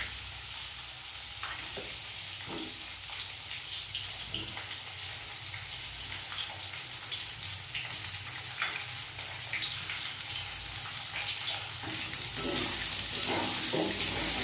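Potatoes and onions frying in a pan with a continuous hissing sizzle throughout, with faint stirring scrapes now and then, loud and close without talk.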